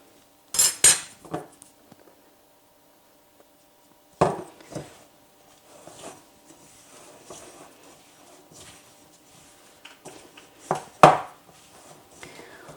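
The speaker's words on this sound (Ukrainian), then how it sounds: "Спочатку замішую ложкою, коли тісто вже таке плотне стає, тоді можна і руками." A spoon clinks and scrapes against a bowl while mixing shortbread cookie dough, in scattered bursts of knocking with quieter scraping between, close by.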